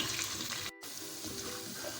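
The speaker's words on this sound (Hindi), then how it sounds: "तो यहाँ पे देखें प्याज और अदरक लहसुन बहुत ही अच्छे से फ्राई हो चुका है।" Onion and ginger-garlic paste frying in a pot for beef white biryani: a dense, steady sizzle that stays loud and close, broken only by a split-second gap near the middle.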